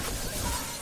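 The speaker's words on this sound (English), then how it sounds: "get a long weapon and break the glass" Glass shattering in the zombie video game Dead Island: a short, loud, broadband crash with no voices over it.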